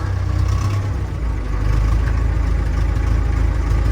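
Engine of an old, well-worn machine in Ostrówek running steadily with a strong low rumble, the throttle opened up to a louder, fuller roar partway through; close and continuous, no talking.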